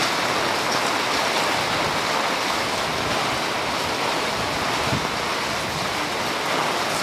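Typhoon wind and rain lash a Taipei street at night, a loud, steady roar of gusting wind and driving sideways rain with no letup.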